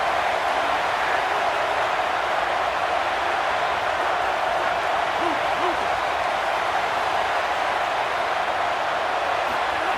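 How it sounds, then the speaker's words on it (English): A steady, loud roar from a stadium crowd cheering for the defense on third down in a football video game, a constant wash of noise with no breaks. "Decibels rising as the crowd gets behind this defense on 3rd down."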